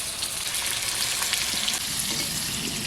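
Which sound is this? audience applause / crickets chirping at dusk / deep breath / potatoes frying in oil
potatoes frying in oil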